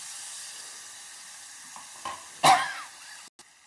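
Green chillies and chicken liver drop into hot oil and spiced masala in a pan, a quiet steady hiss bursting into a brief loud sizzle, then settling back down, with no voices.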